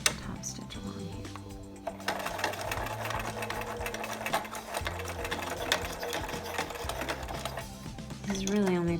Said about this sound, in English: And we are going to top stitch along here.